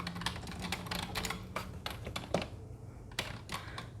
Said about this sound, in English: Type that up.